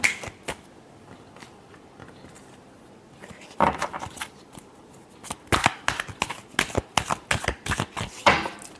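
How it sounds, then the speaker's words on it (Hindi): Tarot cards are shuffled by hand: quiet rustling at first, then a run of crisp, rapid riffles and slaps in irregular bursts, close and alone with no talk. "Last shuffle."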